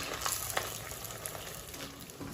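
Semolina cheese balls deep-fry in oil over a low flame, giving a soft, steady bubbling sizzle up close with faint crackles.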